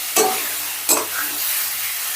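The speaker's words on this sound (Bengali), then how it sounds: "এবার আলুটাও মশলার সাথে একটু মিশিয়ে নেব।" Fried potatoes being stirred into sizzling masala in a pan for an egg-fritter curry, with two sharp scraping strokes over a steady low frying hiss, no talking.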